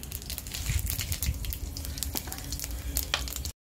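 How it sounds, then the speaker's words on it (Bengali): Cinnamon, cloves and whole cumin hit hot oil in a pan for a spicy egg curry, giving a loud, steady, close sizzle with crackling pops throughout. "তেল দিচ্ছি, দারচিনি লবঙ্গ দিলাম, গোটা জিরে ফোড়নে দিলাম"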